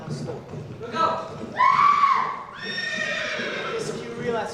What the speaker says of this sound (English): 4 or 5 riders came in sight in the and swept at full gallop down the slope